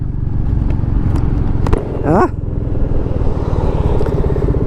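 A Royal Enfield Meteor 350 motorcycle rides along at a steady pace, its engine a loud, continuous low thrum with a brief higher sweeping whine partway through.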